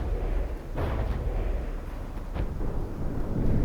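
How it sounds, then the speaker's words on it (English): Several deep booming explosions in a naval combat video game, muffled low rumbles with two sharper blasts standing out over a continuous dull roar, fairly faint overall. "More big explosions"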